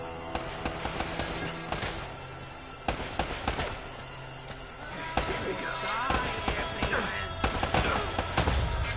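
Gunfire in the action-adventure game Uncharted: a rapid series of sharp shots and bursts rings out loud and close, with irregular volleys and reports spread across the whole stretch.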